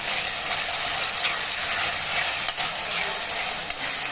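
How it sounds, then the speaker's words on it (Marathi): Onion and tomato sautéing in hot oil in a pan, a steady, close, dense sizzle that holds evenly throughout with a few faint clinks of a spoon, no voices. "आता टोमॅटोही तेलात छान परतवून घ्यायचा."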